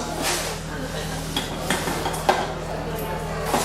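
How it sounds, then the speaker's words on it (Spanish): Confit suckling pig skin sears on a hot griddle in a restaurant kitchen cooking demonstration, a steady close sizzle with occasional scraping and utensil clatter, under background noise. "Marcar a la plancha la piel del cochinillo que estamos marcándola."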